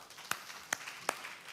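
A few sparse hand claps, three sharp separate slaps, ring out at a church service to honour a senior congregation member, fairly faint against quiet room tone.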